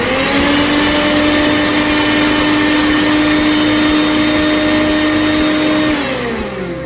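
A MecTURING MG800 mixer grinder running at full turbo speed, loud and close, with a steady high-pitched motor whine and rushing roar that winds down near the end.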